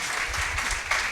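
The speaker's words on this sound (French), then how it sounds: "On l'applaudit, s'il vous plaît." Brief, dense applause from an audience at a press week closing ceremony, with a steady wash of many hands clapping at even loudness and no voice on top.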